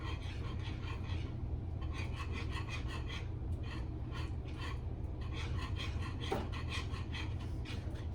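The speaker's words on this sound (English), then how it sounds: "Make sure you scrape up the sides as you go." A utensil scrapes rhythmically around the sides of a pan of homemade chicken gravy, a steady close rasping in repeated strokes over a low hum.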